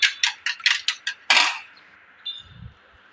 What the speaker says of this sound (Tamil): இப்போது ஒரு பீட்டர் வச்சு இதை நல்லா வந்து பீட் பண்ணி எடுத்துக்கலாம்.